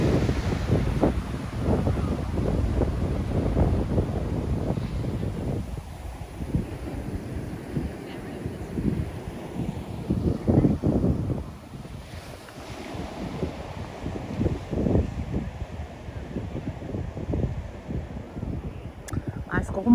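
Steady wind buffeting the microphone over rolling Pacific Ocean waves, a broad continuous rush with swells rising and falling, while a person talks over it throughout.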